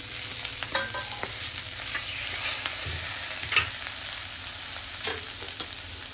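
Vegetables and tomato sauté in a pan for sambar, making a steady close sizzle broken by the scrape and clatter of stirring.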